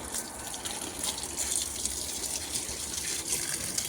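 Water pours steadily from a hose onto tomato plants, a close, continuous gushing splash with no pauses and no voices.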